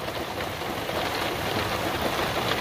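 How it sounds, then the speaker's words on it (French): Heavy rain pours down in a loud, dense, unbroken roar of drops hitting a surface close by, steady throughout with no talking. "là il pleut bien là, quand même"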